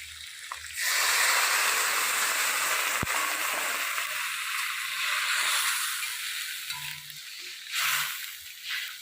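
Water poured into a hot pan for a Bengali fish curry sets off a loud, steady hiss that starts abruptly and holds for several seconds, then fades as it settles, with a few faint clinks.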